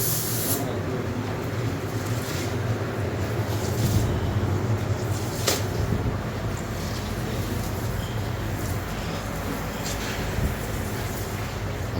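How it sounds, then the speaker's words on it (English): Sealer sprayed from a paint spray gun across a car body during a snow blush paint job, a steady broadband hiss running continuously with brief louder bursts, close and fairly loud, with no talking. "He's spraying this sealer."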